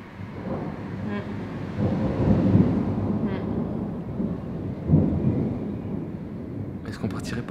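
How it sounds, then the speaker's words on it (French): A thunderstorm with rain rumbles over a deserted Italian ghost town, thunder rolling low and swelling in long waves under a steady wash of rain, with brief voices late on. "Sauf qu'on va pas pouvoir sortir parce qu'il pleut. Il y a de l'orage en plus."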